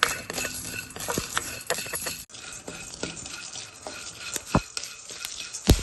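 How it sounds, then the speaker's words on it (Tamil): Coffee beans from a home garden stirred in a pan while roasting toward dark brown: close rattling scrapes and clinks of a spoon against metal, with a few sharper knocks, no talk. "நல்லா டார்க் ப்ரௌனாக வறுக்கணும்"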